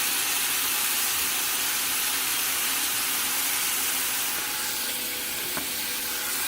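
Chopped onions cooking on a hot griddle for cheesesteaks give off a steady, dense sizzle and hiss, close and continuous with no talking.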